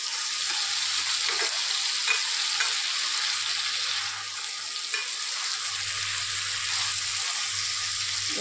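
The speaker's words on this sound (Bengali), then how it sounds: "চিংড়ি মাছটা দিয়ে ভালো করে কষতে হবে একটু" Prawns and banana flower (mocha) sautéed and stirred in a pan give off a steady, close sizzle of frying, with soft scraping and a low hum that comes and goes underneath. No one speaks.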